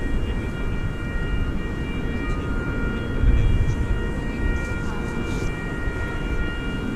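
At DFW Airport at night, an MD-11 jet bound for UPS Worldport gives off a loud, steady low rumble with a thin high whine above it, with a faint voice in the background.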